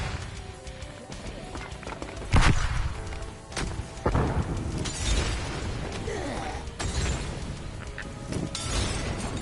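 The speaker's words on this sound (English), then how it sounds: "Flashbang thrown." A flashbang grenade goes off in Black Ops Cold War multiplayer, a sharp broadband bang followed by further thuds and bursts amid busy, continuous combat noise and footsteps.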